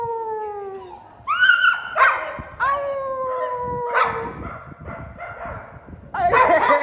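A big dog barks and howls in long rising and falling wails, loud and close, with sharp barks breaking in between howls and the calls repeating several times in an outdoor setting.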